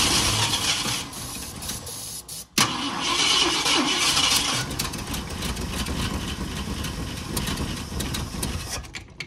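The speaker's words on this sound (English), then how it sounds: "Hey, it's kind of on idle." Abandoned old Ford pickup, sitting for about 30 years, runs at a rough idle with a steady close engine rumble and hiss, one brief dropout partway through, no speech.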